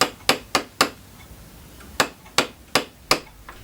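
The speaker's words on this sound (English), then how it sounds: "He rivets it to the brass collar, which was attached to the verge." Sharp metallic hammer taps rivet a verge to a brass collar in hand watchmaking of the 1790s, with three quick strikes, a pause, then four more evenly spaced blows, close and clear.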